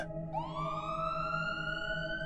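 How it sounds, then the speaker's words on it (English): A police siren wails, its tone sweeping upward and holding steady, fairly distant and alone. "I heard the sound of police sirens closing in"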